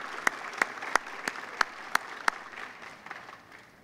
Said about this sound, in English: let's hear a round of applause for all of our contributors.